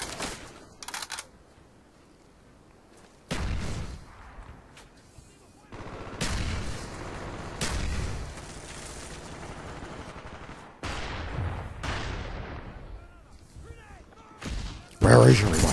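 Bursts of video game gunfire from Call of Duty Black Ops, loud and close, come in clustered volleys with pauses between them, and someone talks over parts of the action.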